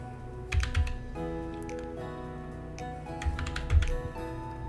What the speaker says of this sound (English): Okay, then type the CAPTCHA correctly.